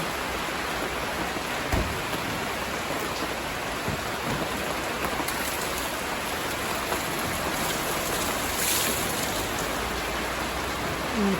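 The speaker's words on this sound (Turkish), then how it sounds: "Güzel bir şekilde yağdı şu anda yağmur." Heavy rain pours steadily and loudly throughout during a downpour in Antalya, a dense continuous hiss with occasional louder splashes and no voices.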